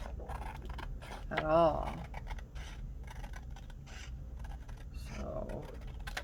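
Scissors cutting paper for a handmade journal, with close, crisp snipping and rasping strokes in short bursts while a person talks intermittently over them.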